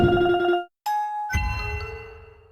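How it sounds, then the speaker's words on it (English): A short run of bright electronic chime tones from the video game Geometry Dash, a few quick pulsing notes, then a ringing ding that slowly fades. "RobTop's old game Boomlings has a similar sound called counter001"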